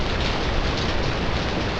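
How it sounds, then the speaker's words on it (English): Heavy cold winter rain pelts fallen leaves in a dense, continuous hiss and patter, loud and close throughout with no voices. "It's popping noisily upon the fallen winter leaves."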